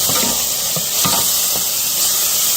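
Garlic sautés loudly in a pan for saffron rice, giving a close, steady sizzling hiss with faint scraping stirs underneath and no talking.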